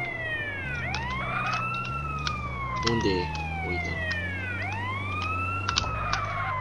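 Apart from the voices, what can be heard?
ambulance siren in video game GTA San Andreas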